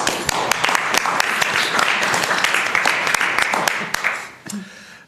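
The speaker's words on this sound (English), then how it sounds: "I think it's worthy of a round of applause" A round of applause fills a council chamber at a Clarence City Council meeting, a steady wash of many hands clapping for about four seconds before it quickly fades out.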